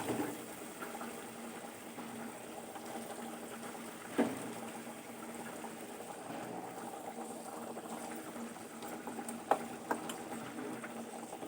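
Pabda fish go into a pan over a low gas flame, with a soft, steady bubbling sizzle throughout and a couple of faint splashes or clinks along the way, without talking.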